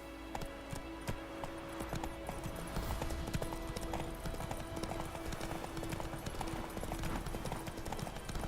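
Horse hooves clip-clop at a steady trot in The Witcher 3: Wild Hunt on the road to White Orchards, with a rhythmic clatter running throughout, close and fairly even, and a voice speaking briefly over it.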